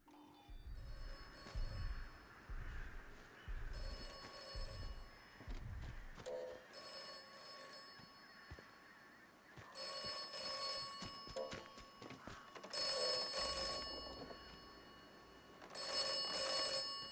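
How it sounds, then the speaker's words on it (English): An old-style telephone bell rings in the video game Atomfall, repeating in bursts with short gaps, loud and near, alongside low thumps of movement and footsteps early on. "Bloody phone. Irritating."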